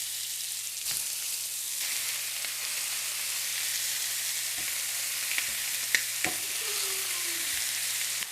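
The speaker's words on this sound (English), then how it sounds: "you can hear the sizzle of that chicken." Chicken wings sizzle in olive oil in a pan, a steady close hiss of frying throughout with a few sharp pops and clicks scattered over it.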